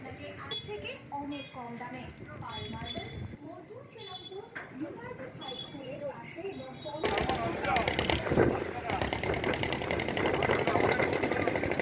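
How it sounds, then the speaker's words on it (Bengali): A ferry launch's engine at a river ghat in Nabadwip, sounding as a steady, loud mechanical rumble and throb that rises partway through, after a stretch of people talking nearby. "আমাদের লঞ্চ এসে গেছে, আপনারা দেখতে পাচ্ছেন।"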